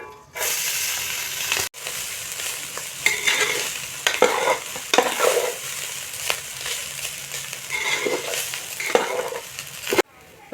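Cooked rice stirred into cumin frying in ghee in a pan: a close, continuous sizzle broken by repeated scraping strokes of a spatula, with a few louder clatters of the utensil against the pan.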